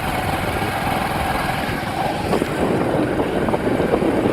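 A motorbike engine idles steadily with a constant low rumble and no change in pace, close by and alone without any talk.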